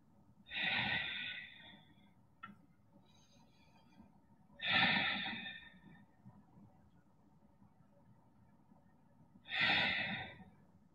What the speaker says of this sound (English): I'll take three breaths here.